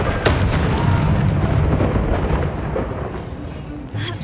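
The Incendio fire spell is cast in Hogwarts Legacy, a loud, roaring burst of flame that rushes out and holds steady for about four seconds before tapering off. No one speaks over it.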